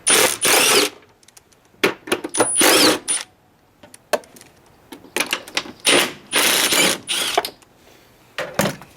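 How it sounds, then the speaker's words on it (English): An impact wrench working 13mm serpentine belt bolts on a Jeep 4.0 inline-six through an extension, loud close bursts of rapid hammering rattle separated by pauses and small clicks of handling. "What I'm using, you're gonna need an extension, and I'm using an impact to make life easier."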